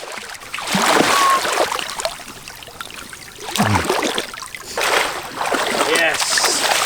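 People wade through water toward a wild island, with splashing surges in bursts as legs push through the shallows, close by and broken by pauses, while voices talk in between.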